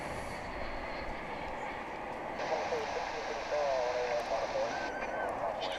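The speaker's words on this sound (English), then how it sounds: "Incoming now is American Flight" An American Airlines jet arriving at DFW International Airport: a distant, steady roar swells midway, and a rising whine threads through it as the aircraft nears.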